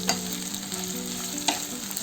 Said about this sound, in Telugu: ఒక 2 మినిట్స్ ఫ్రై చేసుకున్నాము.